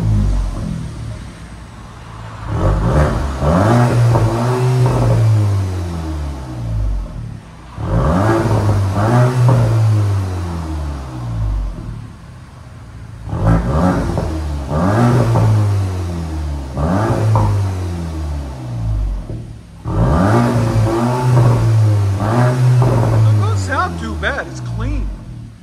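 A turbocharged 2024 VW Golf GTI with its stock exhaust, before a Vibrant ultra quiet resonator is fitted, revs up four times in repeated loud bursts, each rising in pitch and then dropping back to idle.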